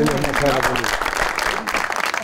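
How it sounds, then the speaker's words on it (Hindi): Studio audience applause on a Pakistani talk show: a burst of clapping from many people that starts under a talking voice and music, continuing as a dense, fairly loud patter. "बहुत सारी तालियां।"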